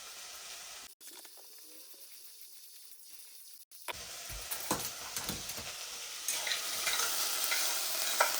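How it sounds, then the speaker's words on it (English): Onions browning in a frying pan, starting as near silence with a faint hum before a soft sizzle and scattered stirring scrapes rise and grow steadily louder toward the end. "I'm going to let my onions just brown a little bit"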